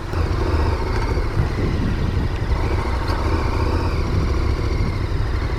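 A KTM Super Adventure 1290, a big heavy adventure motorcycle, runs with a steady low engine rumble and faint mechanical clatter, close and continuous without variation in pace.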